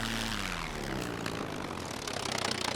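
Propeller plane engine in the SCUM survival game drones loudly and steadily throughout, a continuous buzzing hum with a slowly falling low tone as the aircraft slows near terrain.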